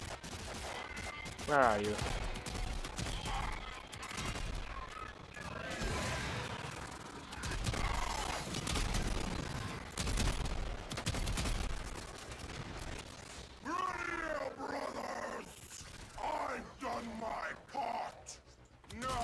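Gunfire in the video game Warframe: scattered bursts and single shots mixed with impacts and whooshes, loud and busy, with someone talking over the fighting.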